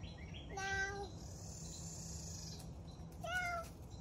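A cat in a garage gives two distinct meows separated by a pause, each a short rising-and-falling cry, heard fairly close over quiet background hum.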